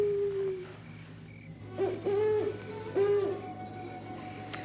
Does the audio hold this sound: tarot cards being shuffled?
no